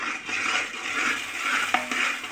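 Puffed rice being stirred into hot jaggery syrup in a pan over a very low flame, giving a steady soft scraping and rustling with a few brief clinks of the spoon against the pan, close and moderately loud.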